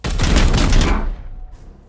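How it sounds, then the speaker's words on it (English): A burst of rapid gunfire in Warhammer 40,000: Chaos Gate - Daemonhunters, a loud, dense volley for about a second before it cuts off into a fading echo. "Opening fire!"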